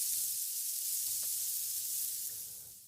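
A sizzling frying sound effect plays as a loud, continuous hiss, steady at first and easing off toward the end, with no voices.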